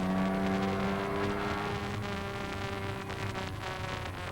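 A 1956 Le Mans race car accelerating hard toward Dunlop Bridge, heard on board: a loud, dense, continuous engine roar with a rising buzzy pitch, filling the whole clip without any talk.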